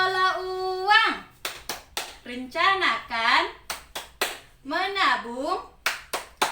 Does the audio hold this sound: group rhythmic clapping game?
yes